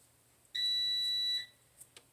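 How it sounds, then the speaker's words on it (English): A kitchen appliance gives one sharp, high electronic beep lasting under a second in a quiet room, followed by a couple of faint small clicks. "My kitchen beeps at me a lot."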